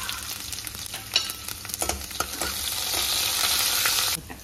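Finely chopped garlic frying in sesame oil with mustard seeds and cumin, a steady close sizzle with a few sharp spatula scrapes and taps, swelling louder before cutting off abruptly.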